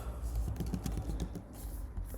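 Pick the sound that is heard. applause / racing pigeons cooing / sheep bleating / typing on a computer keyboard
typing on a computer keyboard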